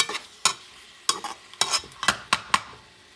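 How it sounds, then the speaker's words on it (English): Garlic fries in a pan while a utensil stirs it, with several distinct scraping strokes at an uneven rhythm over a soft, continuous sizzle, all close up with no talking. "make sure you move stuff around so this garlic doesn't burn and become a little bit sour"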